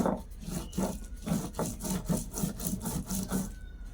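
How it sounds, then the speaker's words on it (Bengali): Spice paste being ground by hand on a flat grinding stone with a stone roller, giving rhythmic back-and-forth scraping strokes about three per second, close and steady, with no talking. "এবার বলি তাহলে হাতে বেটে নিই মশলাটা"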